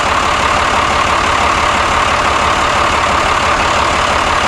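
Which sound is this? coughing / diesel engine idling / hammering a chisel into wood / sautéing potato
diesel engine idling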